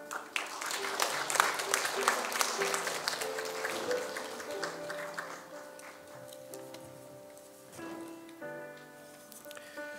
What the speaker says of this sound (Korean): 우리 같이 축복의 마음을 담아서 박수하도록 하겠습니다